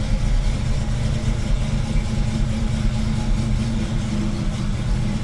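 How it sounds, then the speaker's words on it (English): Steady low rumbling of a vintage Mustang engine idling nearby, a continuous throaty purr with no talking. "Nothing like the sound of the purr of this Mustang"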